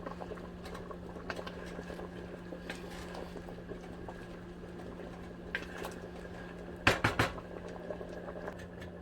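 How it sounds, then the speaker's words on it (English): Soft bubbling and popping from a pot of simmering Nigerian catfish pepper soup under a low steady hum, with a brief clatter of cookware near the end. "So it's bubbling up and cooking."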